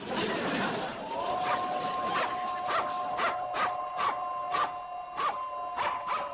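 A dog barks in a steady series of sharp, evenly spaced yelps over a sustained high whistle tone, close and fairly loud in a classic sitcom scene.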